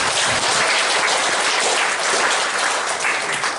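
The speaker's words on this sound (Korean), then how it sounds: "한 번 더 경례의 박수 좀 부탁드리겠습니다" Audience at a Changnyeong Jo clan regional general assembly applauding steadily for several seconds, a dense, even wash of many hands clapping close by, with no speech.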